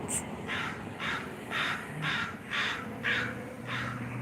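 A corvid-type bird, a magpie, gives a series of harsh rasping calls, about seven evenly spaced bursts outdoors at moderate distance over faint background noise, with no talking.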